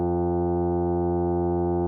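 A synthesizer holds a steady, sustained sine-wave tone, loud and unchanging, rich in evenly spaced harmonics, lasting under two seconds with no other sound.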